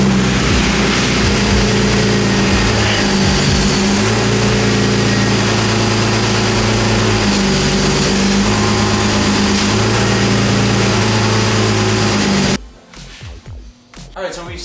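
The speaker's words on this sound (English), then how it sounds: "I'm about to start up the car" A BMW engine running at a steady, loud idle with a low, even rumble, then cutting off abruptly near the end, leaving a quiet, faint room.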